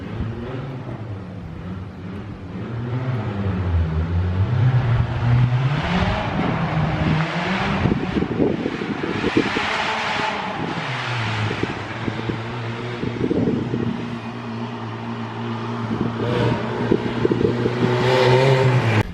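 A drift car's engine idles rough while cold, a low uneven drone that wavers and surges, with fan-like whirring and wind noise over it.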